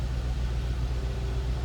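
A 2002 Ford Thunderbird convertible idles, heard from behind the car as a steady low rumble with a faint regular pulse, fairly quiet, with no talking.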